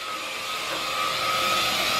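Household vacuum cleaner running while a child plays with it, a continuous close whining roar with a steady high tone that swells slightly louder toward the end.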